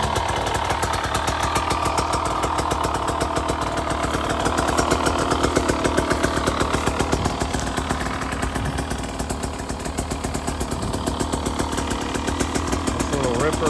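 A GasGas EC300GP two-stroke dirt bike engine runs steadily at an off-road staging area in Miller Canyon, a continuous buzzing drone with a rapid pulsing rhythm, close and fairly loud throughout.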